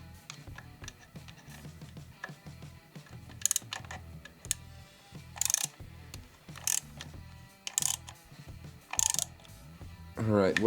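Ratchet clicks with an extension on a Suzuki GS750 motorcycle come in short bursts of sharp, close ticking, separated by pauses and small metallic clinks, fairly quiet overall.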